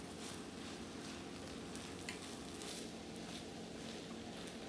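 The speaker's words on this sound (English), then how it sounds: "we're just gonna let this simmer down and mix well" Salmon fried rice simmering in a pan gives a steady, quiet sizzle with soft crackles and light stirring sounds throughout.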